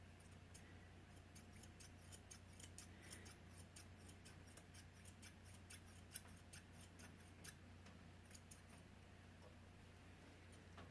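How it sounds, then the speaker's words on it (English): Small grooming scissors snipping chin hair on a Yorkshire terrier, giving quiet, rapid, regular clicks close to the microphone over a steady low hum. "I just take a few hairs at the bottom of the chin here, and I'm just going to cut"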